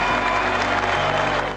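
Crowd in the stands at a baseball game applauds and cheers after a no-hitter, a dense, continuous clapping roar that holds loud for the whole stretch and thins slightly at the end.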